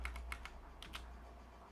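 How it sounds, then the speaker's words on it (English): Quick clicky typing from the video game The Farmer Was Replaced, a burst of several faint keystroke-like ticks, typewriter-like, over a low hum. "Sounds like a typewriter."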